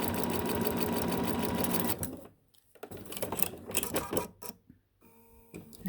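A sewing machine stitches a bag in a fast, dense, even patter for about two seconds. Then it slows into scattered, uneven bursts of stitching with short pauses between them.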